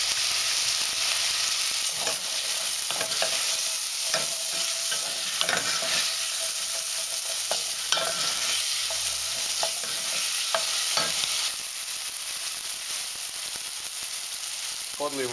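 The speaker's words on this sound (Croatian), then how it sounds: "na istom tom ulju propirimo crveni luk, češnjak i papriku." Red onion, garlic and peppers sauté in oil left from browning chicken, a steady close sizzle broken by repeated scraping stirs of a spoon across the pan.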